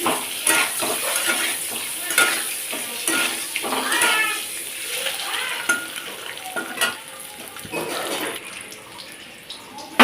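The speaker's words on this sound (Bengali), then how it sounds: "আমি একবারে তেলে দিয়েই পুরো ভেজে নিচ্ছি" An egg fries in hot oil with turmeric in a home kitchen, a steady close sizzle with scraping and stirring noises throughout, plus a few brief high squeaky sounds.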